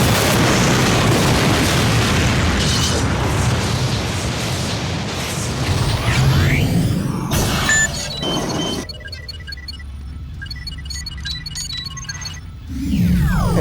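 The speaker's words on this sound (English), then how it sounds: "a big white flash at the end, you have yourself a shot of Moscow blowing up" A deep explosion effect of Moscow blowing up, ending in a big white flash: a loud rolling boom that rumbles on, drops away, then swells again briefly near the end.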